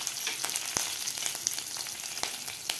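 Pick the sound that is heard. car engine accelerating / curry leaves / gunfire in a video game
curry leaves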